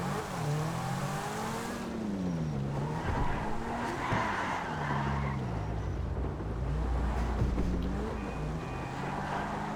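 Car engine in GTA 5 Online, revving and shifting pitch as the vehicle speeds along, with tires squealing and skidding through turns; steady and loud, continuous throughout with no talk.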